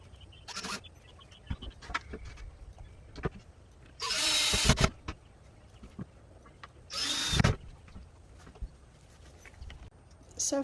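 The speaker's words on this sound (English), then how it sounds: "I got to get my drill, and I need to find some screws" A power drill driving screws into wood while a quail coop mantel is built: two loud whirring bursts of about a second each, close by, separated by quieter handling clicks and knocks.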